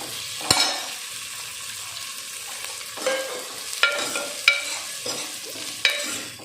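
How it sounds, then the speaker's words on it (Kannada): Gentle sizzle in a hot pan as legumes are stirred into a tempering with chili powder, with a few sharp clacks of a spoon against the pot and no talking. "ಖಾರದ ಪುಡಿ ಸ್ವಲ್ಪ ಹಿಂಗೆ ಮಿಕ್ಸ್ ಮಾಡಿಕೊಂಡು ಇವಾಗ ಕಾಳು ಹಾಕ್ಕೊಳಕತ್ತೀನಿ"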